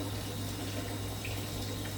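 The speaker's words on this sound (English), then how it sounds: "And that's hot water, so I can run the cold water now." A faucet runs cold water in a steady, even rush with a low constant hum underneath, close and uninterrupted.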